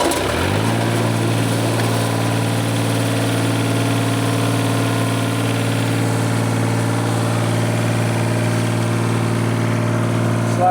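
An irrigation pump engine catches almost instantly and runs at a steady, loud idle with a constant low hum from close by.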